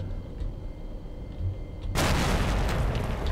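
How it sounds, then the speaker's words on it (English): A grenade explodes in the S.T.A.L.K.E.R.: Lost Alpha video game: a sudden loud, broad blast that cuts in over quiet game ambience and rings on as a sustained roar. "He threw a grenade pretty close to us, right."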